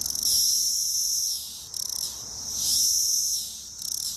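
Male cicadas give a loud, close, high-pitched buzzing courtship song that swells and fades in two long pulsing waves, with no other sounds.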